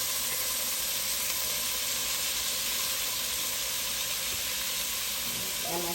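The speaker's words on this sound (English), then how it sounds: "I have some oil in my pan. I'm just going to do that sizzle, put my onions in there" Onions and peppers sizzling in hot oil in a pan, a steady loud hiss and crackle that continues throughout, with a faint clatter near the end.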